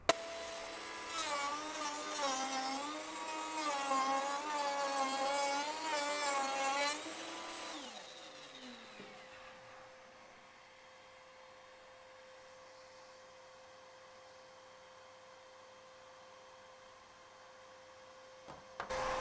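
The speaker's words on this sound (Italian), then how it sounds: "Adesso farò una fresatura in questo pezzo di MDF che crea molta polvere, quindi collego l'aspirapolvere" A Gude OFT 855 router mills a piece of MDF while a vacuum extractor draws off the dust. A loud, high, whining cut runs for about eight seconds, then stops, leaving the vacuum's steady droning hum on its own.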